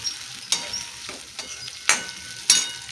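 Green peas tipped into a hot tawa for Mumbai-style street tawa pulao, giving soft sizzling frying with a few sharp clattering stirs or scrapes spaced through, close and moderately quiet.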